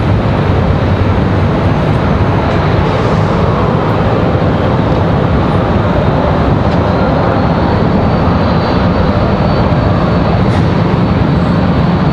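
A JetBlue airliner arriving from JFK at Raleigh-Durham airport produces a loud, sustained jet roar with a thin high whine, constant in level, with no talk over it.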